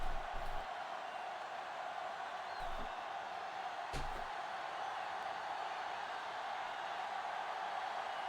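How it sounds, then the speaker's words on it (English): Toronto stadium crowd in a football video game during a Michigan Hellcats at Toronto Trash Pandas matchup, a steady, dense roar of cheering that holds level throughout with a few brief sharp accents. "This Toronto crowd can't believe what they're seeing."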